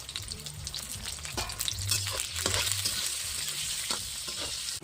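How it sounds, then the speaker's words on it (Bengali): Eggplant pieces with a little turmeric fry in hot oil for Bengali shukto, a steady, close sizzle with stirring scrapes throughout and no talk. "এটা একটু ভেজে নেবো"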